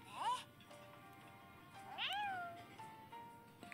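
A cat meows twice in Princess Connect! Re:Dive, two clear rising mews a couple of seconds apart over quiet background.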